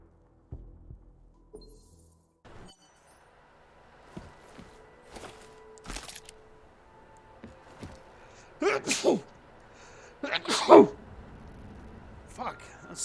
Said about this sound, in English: a sneeze came up out of nowhere